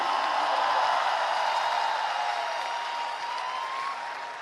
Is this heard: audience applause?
yes